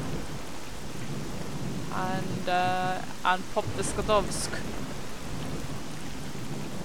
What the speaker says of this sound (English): I hope it won't be raining as hard by then, because it makes recording very annoying